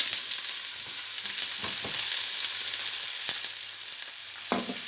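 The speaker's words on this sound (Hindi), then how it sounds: "तेल गर्म हो गया, प्याज डाल लेंगे" Sliced onions sizzle and crackle steadily in hot oil, a dense close hiss with occasional stirring scrapes and clinks, no voices over it.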